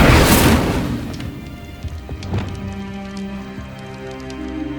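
Incendio fire spell cast in Hogwarts Legacy: a loud whooshing burst with a booming rumble up front, then a crackling, fading fiery tail with scattered sparkling ticks over a low hum.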